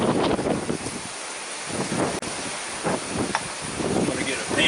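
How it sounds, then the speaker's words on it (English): Strong wind gusts outdoors, buffeting and roaring across the microphone in loud, uneven surges throughout, with a voice briefly audible underneath. "Look how windy it is."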